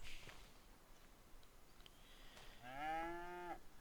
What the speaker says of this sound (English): so you could put a lot more cows in there, Trev.